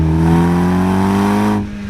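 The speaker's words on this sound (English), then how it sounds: "This car is absolutely insane, the way it claws itself out of a corner." A tuned Mitsubishi Evo X pulls hard out of a corner on a hilly road, its engine roaring loud and close with a rising, buzzy drone that holds steady before suddenly dropping off near the end.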